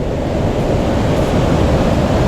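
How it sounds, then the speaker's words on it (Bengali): Water rushing down Krang Suri waterfall in Dawki, Meghalaya: a dense, steady roar that stays loud and constant throughout, with no voices. "এই যে ঝর্ণাটা, এই ঝর্ণাটা আপনারা দেখতে পাচ্ছেন"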